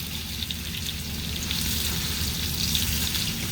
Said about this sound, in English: And then I will be sauteing up.